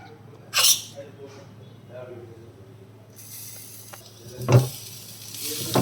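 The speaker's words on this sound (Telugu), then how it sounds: "అరటి పువ్వు యాడ్ చేసుకుందామండి." Banana flower dropped into a curry pan and stirred, giving a brief sizzle and scrape against the pan with a sharper clatter later, heard faintly under a woman's speech while cooking at home.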